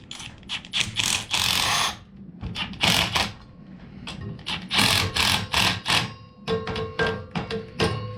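An impact gun tightens worm clamps on a hydraulic splitter manifold being fitted to a Kubota BX tractor, firing in repeated loud, rattling bursts separated by short pauses, with no talking.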